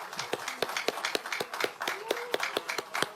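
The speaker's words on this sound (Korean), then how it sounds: "선관위원장님하고 선관위원들께도 고생했다고 박수 한번 주십시오" Scattered clapping in a party caucus meeting hall after an election for floor leader, sharp distinct hand claps in an uneven rhythm, fairly near, with a murmur of voices underneath.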